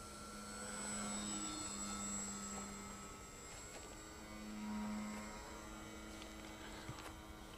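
A Multiplex Hummel model airplane flies at just under half throttle on a calm evening, its small motor giving a faint, steady distant drone that swells and fades slightly as it passes, with no talking.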